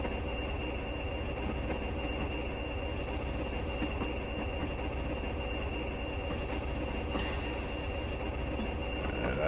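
Class 20 diesel locomotive braking in Train Simulator Classic on the Stranraer Harbour to Dumfries line: a steady, loud rolling rumble with a sustained high wheel squeal and a brief hiss burst near the end.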